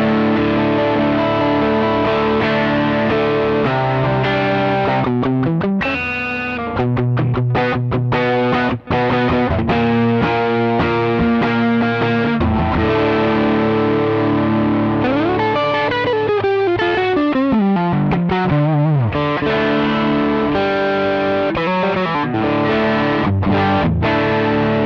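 An Ibanez GRG170DX electric guitar plays through overdrive, with a gritty, distorted tone. It moves through sustained chords and quick runs that include a pitch slide, loud and close, with no one speaking.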